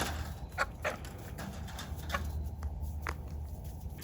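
Chickens and a rooster cluck softly in a garden, with scattered short clucks and scratching sounds over a low background rumble, faint and somewhat distant.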